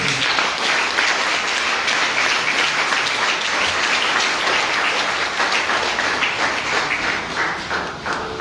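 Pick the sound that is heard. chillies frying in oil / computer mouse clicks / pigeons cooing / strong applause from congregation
strong applause from congregation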